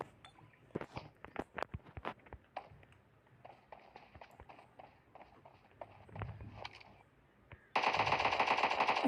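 Gunfire from a shotgun in the mobile game PUBG Mobile Lite comes as sharp cracks over light footstep-like tapping, ending in a loud sustained burst of game sound.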